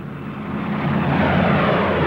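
World War 2 warplanes swooping in, a steady broad engine roar rising slightly in loudness and holding close and continuous, with no voices.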